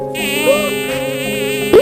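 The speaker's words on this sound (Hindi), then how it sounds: "कान पे भुनभुना रही थी" A housefly buzzes close by in a steady, loud, whining drone that rises briefly in pitch twice.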